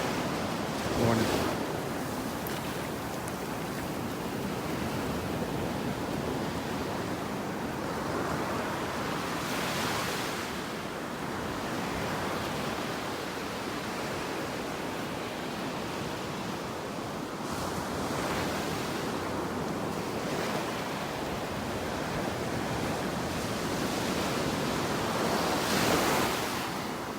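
Ocean surf rolling onto the beach at North Naples, Florida, a steady wash of breaking waves with periodic louder crashes every several seconds and some wind buffeting the microphone.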